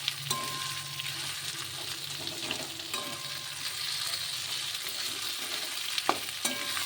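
Spiced masala for a snail curry frying steadily in a pan and being stirred, with a continuous close sizzle and occasional scraping strokes of a spoon throughout.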